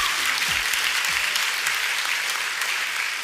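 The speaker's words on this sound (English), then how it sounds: "can we just give a big round of applause for these?" Sustained audience applause at a church gathering, a dense, even wash of clapping that stays steady and loud across the whole stretch with no voices on top.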